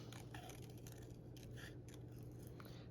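Scissors fussy-cutting around a paper picture for a junk journal: quiet, close, crisp snipping and paper rustles in short irregular bursts against a faint steady hum.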